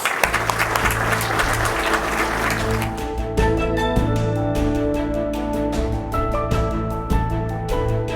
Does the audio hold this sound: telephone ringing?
no